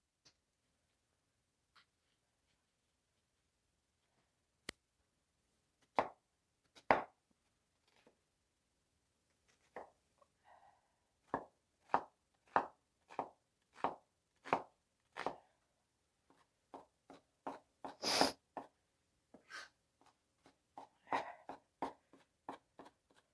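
A sharp cleaver chops onions on a cutting board, sparse at first and then a steady run of crisp, close knocks, ending in a louder flurry of cuts.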